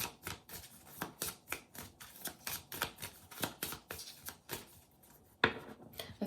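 Tarot cards are shuffled by hand in a steady run of crisp, rapid riffling bursts, close and fairly quiet, about two per second, ending with one sharper snap.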